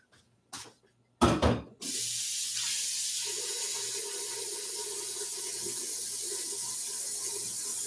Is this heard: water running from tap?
yes